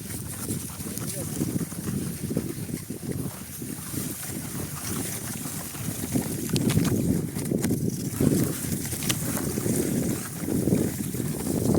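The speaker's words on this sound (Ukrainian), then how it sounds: "Трошка вітер, правда, це погано вітер." Steady wind buffets the microphone outdoors in a garden plot being prepared for planting, rumbling continuously with gusts growing stronger midway through, while a person talks intermittently.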